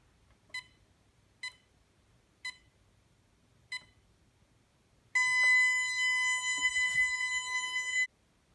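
A Bentley Symphony 2 burglar alarm gives four short, evenly spaced beeps close by, then a loud, steady electronic tone sounds continuously for about three seconds, with no talking.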